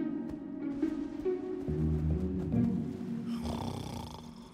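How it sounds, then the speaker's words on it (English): A character in the Minecraft Story Mode video game snores in slow, rumbling low breaths, a few drawn-out snores close up with faint game sounds behind. "even his snore makes him sound like a know-it-all"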